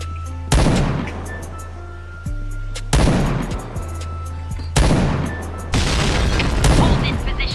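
Gunfire and explosions from the shooter game Point Blank: several loud booming blasts with rattling shots, arriving in four heavy bursts separated by brief lulls.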